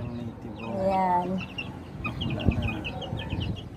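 Native and Sasso chickens cluck and cackle nearby in short repeated bursts, with a person talking under and between the calls.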